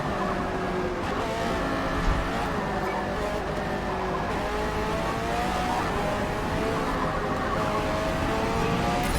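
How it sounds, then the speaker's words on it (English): A car in a racing video game drives with a steady, continuous engine drone that rises and falls as it revs, with occasional tyre noise. It sounds moderately loud and is heard alone. "But here is a video of me driving now."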